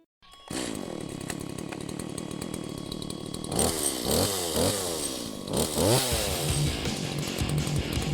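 A chainsaw starts up and runs loudly nearby, its engine revving up and down several times in rising whines over a steady buzzing idle.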